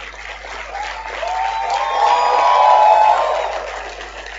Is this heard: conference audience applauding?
yes